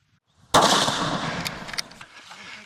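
A single loud hunting gunshot cracks close by after near silence, then a long rolling echo trails off outdoors with a few faint clicks.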